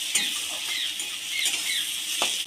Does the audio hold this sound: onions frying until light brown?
yes